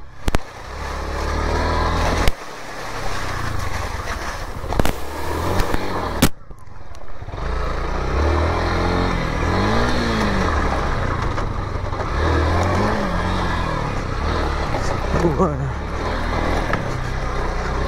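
A motorbike engine idles and revs unevenly as the bike is eased out of a tight spot, steady close engine drone with a few sharp knocks early on and people talking over it.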